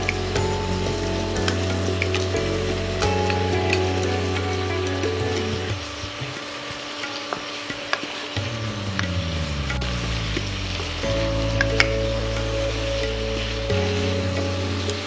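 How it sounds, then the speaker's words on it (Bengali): Pre-marinated mutton is added to hot oil with chili powder and browned in a pan, producing a loud continuous sizzle and hiss, softening briefly in the middle and then building again, with scattered pops and no voices. "অল্পক্ষণ কষিয়ে নিয়ে এবার যোগ করুন আগে থেকে মেখে রাখা মাংস।"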